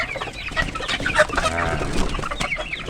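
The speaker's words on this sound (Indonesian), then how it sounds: "Sekarang kita akan berikan makan kepada ayam ini" A flock of two-month-old chickens clucks and chatters continuously at close range before feeding, the busy overlapping calls forming a dense, lively farmyard din with no talk.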